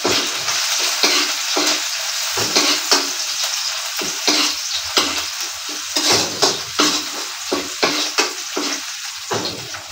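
Garlic and onion sauté in a pan, a steady hiss of sizzling oil broken by repeated scraping and stirring strokes of a utensil, close and continuous with no voices.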